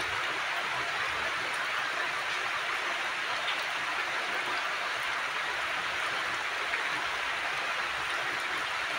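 Steady rain falls on a rainy morning, a dense, even hiss of drops on surfaces that holds constant throughout with no pauses and no voices.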